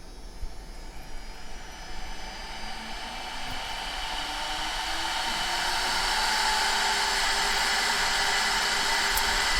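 A CNC router on a rotary axis carves a chess knight's horse head, its spindle producing a steady, loud, airy whine with a faint tone that slowly rises as the cut continues, with no talking.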